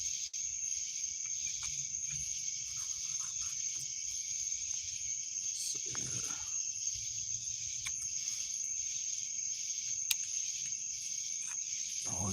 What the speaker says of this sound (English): that's all I can hear is crickets